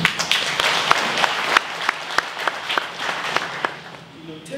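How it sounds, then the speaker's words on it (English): Crowd clapping fills a service awards ceremony, a thick wash of many hands with a few sharper nearby claps standing out, tapering off slightly at the end. "I wish you to clap hands for yourselves."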